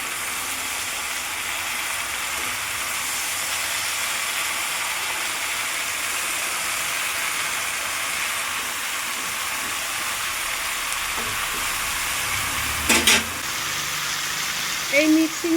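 Chopped greens hiss steadily as they fry in a pan with pumpkin stalks, giving a soft, even sizzle at moderate level, with a few clinks near the end.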